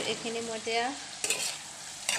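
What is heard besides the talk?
long beans with spices frying and being stirred in pan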